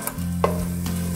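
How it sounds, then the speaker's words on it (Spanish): Aderezo with ají panca and rocoto fries in a pan for Peruvian adobo de chancho, a steady close sizzle with a soft stir scraping through it. "Ahora vamos a seguir friendo muy bien,"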